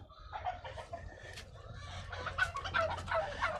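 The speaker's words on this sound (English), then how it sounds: "Chickens say hi. The turkeys say hi." Chickens cluck and squawk nearby on a farm with turkeys, a busy overlapping run of calls with a crowing note, heard alone without talk.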